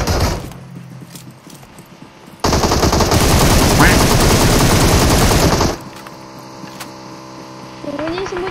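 Automatic gunfire from the PUBG Mobile video game erupts in a dense, loud, sustained burst lasting about three seconds, with sparse shots and game sounds before and after, and voices talking around it.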